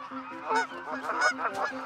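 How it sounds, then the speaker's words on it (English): Migrating Canada geese honk repeatedly in a steady, rhythmic series of nasal calls, fairly close and loud, with no voices over them. "Those migrating geese are running out of gas."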